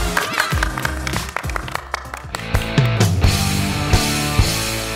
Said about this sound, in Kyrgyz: Кол чабуулар жаңы.